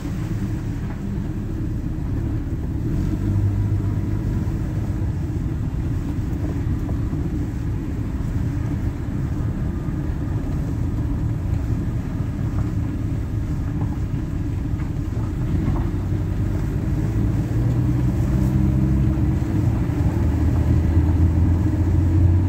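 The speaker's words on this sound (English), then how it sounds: "So now we're just going to give it a little spin here and see how the transmission works." A 1976 Dodge D100 pickup with a 727 automatic transmission drives along, its engine rumbling loudly and steadily as it revs and shifts up through the gears, with no voices.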